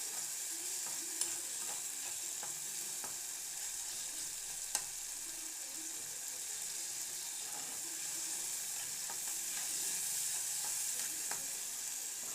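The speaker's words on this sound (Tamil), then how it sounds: "தக்காளி வதங்கணும். குடமிளகா போட்டு நல்லா வதங்கணும்" Tomatoes and capsicum sautéing in a pan for an egg gravy, giving a continuous soft sizzle with occasional light clicks of a spoon stirring, fairly quiet and close, with no talking.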